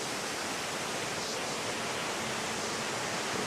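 Small streams flow toward waterfalls beside a road, making a steady, dense rushing wash that holds an even level throughout with no voices.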